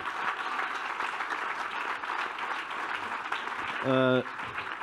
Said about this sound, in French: je veux des applaudissements pour le Relais Pantin